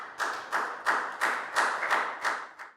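Children in a primary school classroom clap in slow, even unison, about seven distinct claps spaced roughly a third of a second apart, close and moderately loud with no talking.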